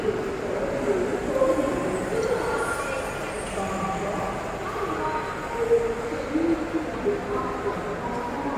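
Inside Chennai Central railway station, trains rumble and clatter beneath a steady background of crowd murmur and station bustle. A few faint bird calls and occasional brief clanks rise above the moderate, continuous hum.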